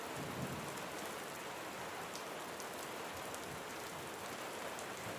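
Steady, heavy rain pours without a break, a dense close hiss with scattered sharper drop hits, no voices or other sounds over it.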